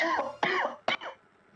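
Person coughing, three quick close harsh coughs with short gaps, the last one brief and throaty.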